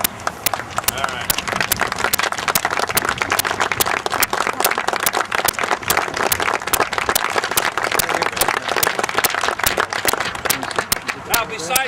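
Sustained applause for veterans at a Memorial Day service in Scotia and Glenville, a dense crowd clapping steadily throughout with voices mixed in.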